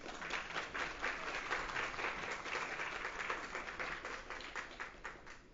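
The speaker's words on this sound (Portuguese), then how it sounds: "Uma salva de palmas para Samanta Carvalho e Rodrigo Flores." An audience at a business book launch talk applauds two speakers, a sustained dense round of clapping from many hands, steady throughout and slightly muffled.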